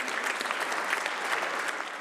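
An audience at a congress closing ceremony in Luxembourg applauds, a dense, even wash of many hands clapping throughout, fairly close and steady with no pause.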